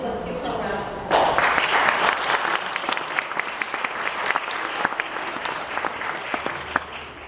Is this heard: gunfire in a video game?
no